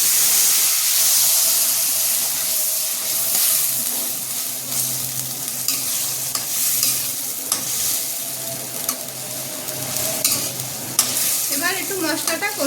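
Spiced masala with chilli powder and a splash of water sizzles and hisses steadily in a pan for a hilsa curry with pumpkin and black cumin, with a spoon stirring and scraping throughout.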